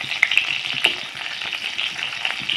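Mustard-stuffed onions frying in a pan, a steady close sizzle running throughout with a few brief sharp pops and crackles, no voices.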